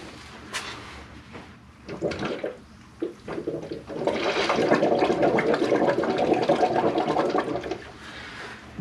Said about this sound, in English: Then I like to put a cloth over it and blow it out.